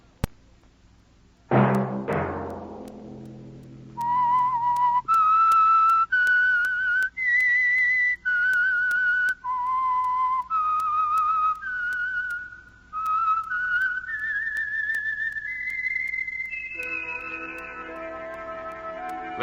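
A lone whistled melody, the theme of the radio drama The Whistler, rises from a short sharp attack into a sequence of clear sustained notes, each held about a second with small gaps between, loud and close.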